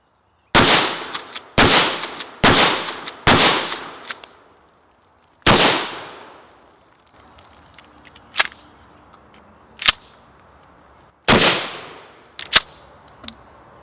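Mossberg Shockwave shotgun firing 00 buckshot: about eight loud, sharp blasts, four in quick succession and then scattered single shots with brief decaying echoes, no talking.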